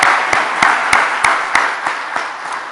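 A church congregation claps loudly in unison during Sunday worship, with strong, evenly spaced beats about every third of a second over a bed of scattered hand claps.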